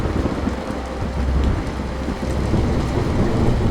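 Heavy evening rain falls in a thunderstorm, with a dense, steady roar of rain and low rumbling thunder rolling underneath, loud and continuous throughout.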